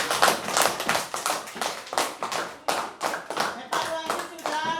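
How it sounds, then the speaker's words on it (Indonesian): A classroom of children clapping their hands, a dense run of quick uneven claps close by for several seconds, with young voices calling out over the applause. "Tepuk tangan buat kalian masing-masing."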